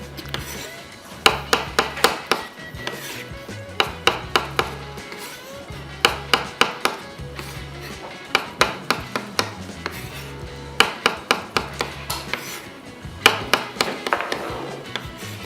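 Knife chopping through mushrooms on a cutting board in a home kitchen, a steady series of sharp, close taps in quick bursts with short pauses, over a low background hum and no talk.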